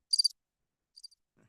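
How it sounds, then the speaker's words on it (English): Cricket chirps as a sound effect: one quick trill of three pulses, a short pause, then a fainter trill, alone against silence. "crickets."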